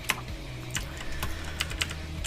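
Fingers type rapidly on a computer keyboard during a game session, a close, steady patter of key clicks with a few sharper strikes and no talk.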